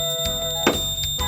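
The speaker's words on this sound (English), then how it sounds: "It's just the fire alarm." A smoke alarm goes off during a morning radio show, giving a steady high-pitched electronic tone that runs throughout, with noisy bursts of activity in the room underneath.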